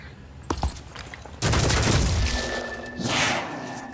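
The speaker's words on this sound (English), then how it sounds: "Furiosa is going to try to hit the head here with her machine gun." Machine gun fire in the Phoenix Point video game, a burst of rapid shots: a few sharp cracks early, then a dense sustained roar of gunfire that tails off, swelling again briefly near the end.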